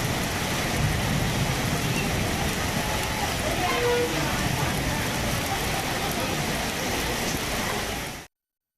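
Heavy rain pours down at a flooded bus station in Tamil Nadu, making a dense, constant hiss and patter that holds at a steady level for about eight seconds before cutting off abruptly.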